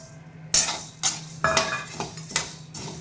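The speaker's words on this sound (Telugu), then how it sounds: "ఫస్ట్ ధనియాలు వేయించుకుంటున్నాను." Coriander seeds dry roast in a pan over medium heat for a Guntur-style chicken pickle, heard as a handful of sharp metallic scrapes and clinks of the spoon stirring against the pan, close and spaced about half a second apart.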